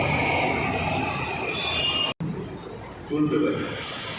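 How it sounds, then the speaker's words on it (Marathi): Metro train pulling into a station platform, a steady broad rumble and rush that holds throughout, with a brief cut midway and station chatter and announcements mixed in underneath. "समोरची मेट्रो आली"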